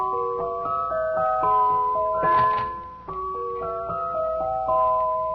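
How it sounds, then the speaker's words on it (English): A toy jack-in-the-box plays a bright music-box tune of clear sustained notes, with a brief shimmering burst midway as the clown pops up, heard alone without talk. "Well, it's a sort of a jack in the box."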